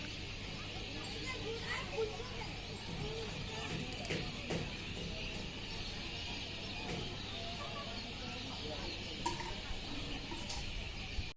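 Faint bird calls sound from far off over a steady, hissing outdoor background at night, with occasional soft chirps scattered throughout.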